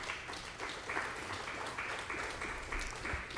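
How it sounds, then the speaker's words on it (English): Audience applause at a live event from the National Research Development Corporation, a steady mid-level wash of clapping from a seated crowd that carries on without pause for a few seconds. "I request the participants to applaud her."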